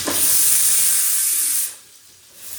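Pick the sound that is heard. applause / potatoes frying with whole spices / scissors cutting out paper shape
potatoes frying with whole spices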